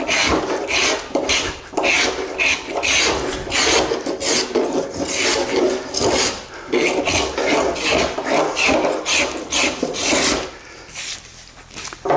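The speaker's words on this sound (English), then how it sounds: "I could do the whole video just about spoke shaving corners" A spokeshave shaving the edge of a wooden beam to distress it for an aged look, producing repeated loud rasping strokes in a steady rhythm, close up, with no talking.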